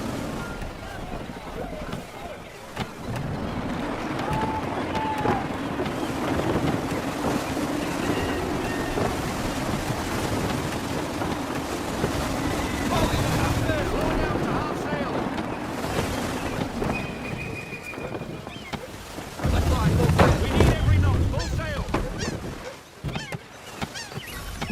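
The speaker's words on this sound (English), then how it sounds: "Wind looks to be shifting. Stay alert, Connor. Gusty winds can be difficult to manage." Steady wind roars and a sailing ship creaks and splashes through open sea in the Assassin's Creed III video game, a continuous dense wash with a heavier surge near the end.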